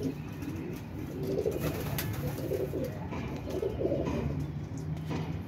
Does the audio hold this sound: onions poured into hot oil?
no